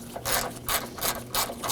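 Socket ratchet snugging bolts on a radiator bracket of a 2014-2020 Acura MDX during a condenser cooling fan replacement: four rhythmic bursts of close, rasping clicks, each a short back-and-forth stroke, alone and fairly loud.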